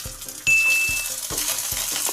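Ginger garlic paste hits hot oil in a tempering for spinach rice and sets off a loud, bright sizzle. A clear metallic clink sounds at the start, and rhythmic spoon knocks against the pan repeat throughout.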